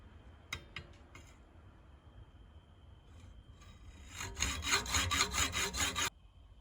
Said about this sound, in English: And just set the bushing into the vise and just cut that lip off.